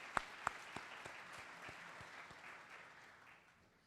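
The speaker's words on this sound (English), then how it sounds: "Please give yourselves a round of applause." Audience applause at a school honors night, a few sharp early claps swelling into a steady wash that gradually fades toward the end; no voices.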